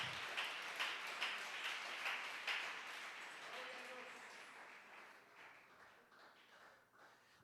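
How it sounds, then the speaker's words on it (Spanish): Congregation applauding the Lord during a Spanish-language church service, a steady wash of clapping that holds for several seconds and slowly fades, heard from a moderate distance. "Fuerte ese aplauso al Señor"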